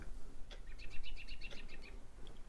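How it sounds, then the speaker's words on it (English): Birds chirp in a quick run of repeated bright notes lasting about a second, fairly faint over a steady low background hum, with a couple of isolated chirps after. "You guys hear the birds?"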